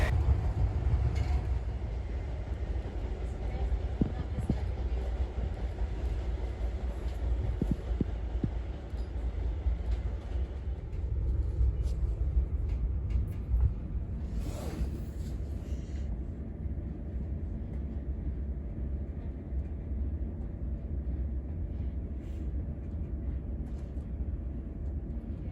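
Inside a Class 43 HST passenger train, the noisy, bumpy locomotive sets up a steady low rumble and rattle of carriage and track that runs throughout, with occasional knocks and brief louder bursts.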